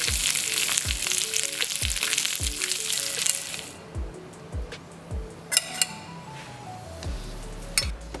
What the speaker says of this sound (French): Je vais donc rajouter ma fleur de courgette à mes gambas afin de récupérer un peu de chaleur